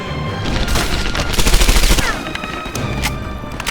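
Rifle fire in the World War II shooter Medal of Honor Airborne: a dense, sustained burst of rapid gunshots with loud cracks that peak midway through, then thinning to scattered shots, with no talking.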